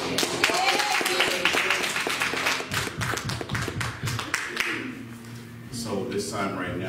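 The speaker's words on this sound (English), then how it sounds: "Can we give God a round of applause?" Church congregation applause during a Sunday worship service, scattered clapping and taps mixed with voices, loudest early on and dwindling as speech takes over.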